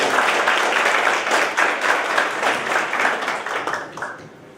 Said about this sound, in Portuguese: Com vocês, com uma salva de palmas, doutora Ana Chloe